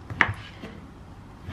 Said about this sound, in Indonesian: Potong dadu kayak gini ya.